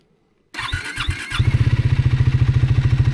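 A Triumph Speed 400 motorcycle cranks briefly, then catches and settles into a loud, close, steady single-cylinder thumping idle.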